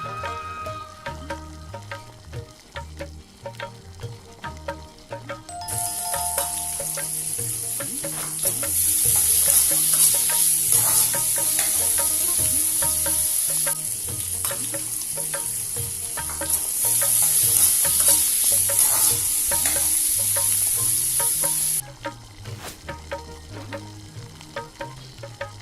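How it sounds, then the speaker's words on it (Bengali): Dried jujube pickle with turmeric and salt cooks in a pan with steady stirring scrapes, as a bright hissing sizzle swells up, holds strongly for a long stretch, then drops back. "ভালো করে মিশিয়ে 5 মিনিট রান্না হতে দিন"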